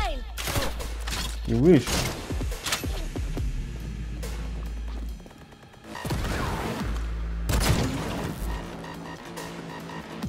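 Gunfire in Cyberpunk 2077 on PS5, several loud sharp bursts in quick succession over deep game rumble, a pause, then another volley of shots, with voices speaking between them.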